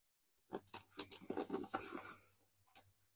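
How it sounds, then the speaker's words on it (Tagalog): Scissors snip and cut through a cardboard box during an unboxing, giving a rapid series of crisp, close cuts and scraping rustles followed by a brief pause and a final snip. "Siyempre, kailangan natin ng gunting."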